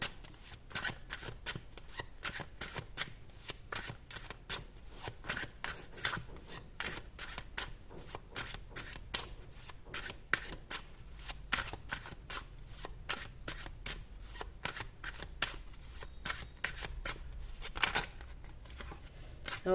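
A deck of tarot cards is riffled and shuffled over and over in a steady, rapid rhythm of crisp flutters, close and fairly quiet.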